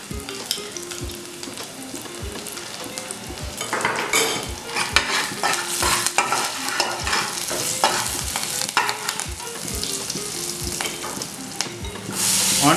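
Bay leaf, cinnamon and cloves fry in hot ghee for a mutton ghee roast, crackling and sizzling up close while a spoon repeatedly scrapes and stirs against the pan in a loose, uneven rhythm.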